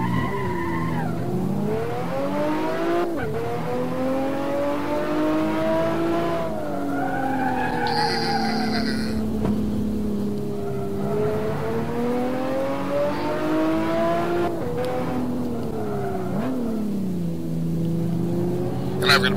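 A race car laps the Nürburgring Formula 1 circuit in the PC racing game Assetto Corsa, its engine revving up and down through gear changes with occasional tire squeal, loud and continuous while a voice talks over it.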